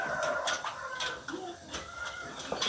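An Ayam Ekor Lidi chicken clucks in short, close calls over a busy farmyard background with other birds audible.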